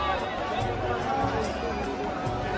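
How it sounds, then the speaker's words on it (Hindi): Large crowd at Har Ki Pauri ghat in Haridwar produces a dense, steady hubbub of overlapping chatter and footsteps, with a nearby voice talking over it. "भीड़ जबरदस्त हो रही है"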